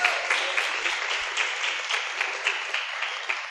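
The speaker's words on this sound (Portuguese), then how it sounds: "Então, palmas." An audience at a round-table panel on AI applauds, a dense burst of many hands clapping at once that carries on steadily without fading.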